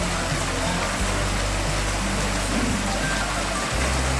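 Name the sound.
heavy rain pouring outside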